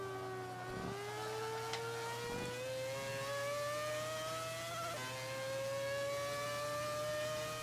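Mazda 787 race car engine in Forza 5 revving steadily, a smooth rising whine climbing in pitch across the clip with brief dips at shifts, heard fairly quietly and continuous with no talk.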